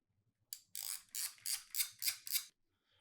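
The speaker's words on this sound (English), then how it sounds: "you're just winding the film across the back and dropping it off" A disposable camera's plastic film advance knob is wound in about seven quick ratcheting bursts, close and crisp, with silence before and after.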